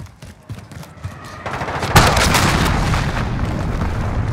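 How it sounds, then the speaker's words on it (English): An allied cruise missile strike in Call of Duty Modern Warfare, with scattered gunfire pops building into a loud, sustained roaring blast and rumble that holds to the end. "Allied cruise missile away."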